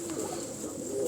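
Pigeons coo softly and steadily in a farmer's bird loft, a low continuous murmur of several birds with faint background hiss.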